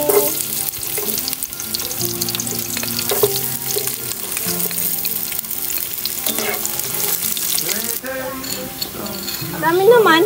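Hot cooking oil sizzling and frying in a pan while preparing ginisang monggo, a bright continuous crackle with stirring and clinking utensils under people talking nearby.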